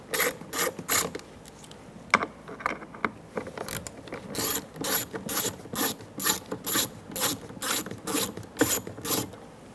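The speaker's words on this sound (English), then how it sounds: "Remove the two 7mm screws." A ratchet wrench clicks in fast repeated bursts, loud and close, backing out two 7mm screws from the rear door trim of a 2014-2018 Chevrolet Silverado 1500.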